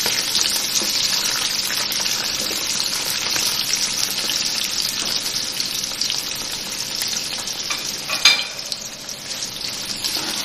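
Sliced onions frying in about one and a half cups of hot oil in a pot, a continuous loud hiss and crackle with a brief louder surge near the end, no talking.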